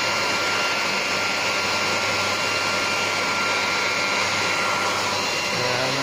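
Hair dryer blowing a steady, loud, unbroken rush of air while cleaning a queen excluder, running close and constant without pause or talk.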